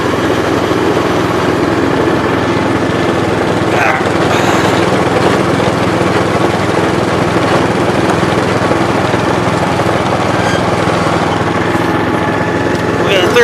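A remote-controlled Outpost Pro 12 power broom clearing snow runs with a loud, steady engine drone that holds close and constant throughout, with a faint rise partway through.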